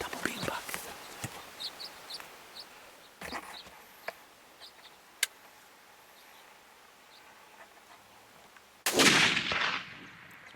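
A rifle fires while hunting mule deer in the Sonora desert. A few sharp, scattered cracks sound across a quiet outdoor setting, followed near the end by a louder, harsh burst.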